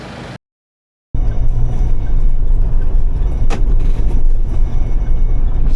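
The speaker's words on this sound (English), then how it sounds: "So today we are going to do off-road autonomous driving without a safety driver." An autonomous vehicle drives along an off-road trail with a loud, rumbling, continuous low-frequency drone following a brief dropout, with one sharp knock partway through.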